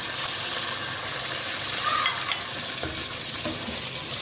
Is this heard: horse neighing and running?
no